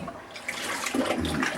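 Quince and crabapple jam ladled into jars: a soft gloopy pour and splash of thick liquid, close and brief, growing fuller near the end.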